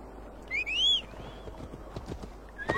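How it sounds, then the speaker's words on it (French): A horse in the Viking game Assassin's Creed Valhalla whinnies loudly with a rising neigh, followed by a run of clip-clopping hoofbeats that close with another short call. "Ah, mon cheval."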